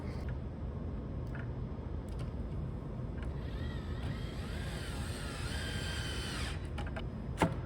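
A power screwdriver drives screws into a bracket holding node boards inside a Stern pinball machine, with a few short whirring bursts and a longer whine near the end, set against a steady background hum.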